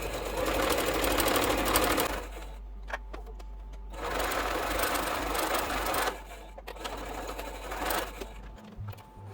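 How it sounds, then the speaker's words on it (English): Sewing machine stitching a quarter-inch seam on a quilt block, with a back stitch, running in close, steady rapid bursts that stop and start in several runs, separated by brief quiet pauses. "I will do a back stitch and then finish off with a 1/4 inch seam allowance"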